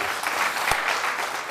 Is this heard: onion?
no